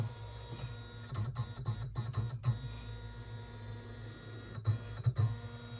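An embroidery machine running on fast forward through its stitch sequence without sewing, giving a quiet mechanical whir and hum broken by short clicking bursts and pauses.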